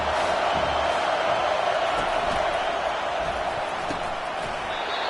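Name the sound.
stadium crowd cheering in American football video game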